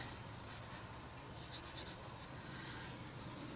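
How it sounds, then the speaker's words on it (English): A soft 2B pencil drawing on paper makes close, dry scratching strokes that come in short rhythmic bursts and grow busier in the middle, with no voices. "Now this 2B is a little bit softer of a pencil, and that's why I'm getting the smudginess that I am"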